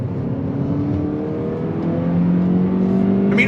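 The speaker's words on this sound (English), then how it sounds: "you could just rev it all the way out to red line, and it pulls very cleanly" A 2022 Toyota Corolla 6-speed hatchback with a 2-liter engine revs while driving, its loud engine note rising steadily in pitch, heard from inside the car.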